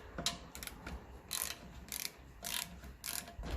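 A ratchet turns a 1/4 inch socket on a 1954 Ferguson 20 TEF diesel tractor, with close, sharp clicking bursts repeating in short, uneven strokes.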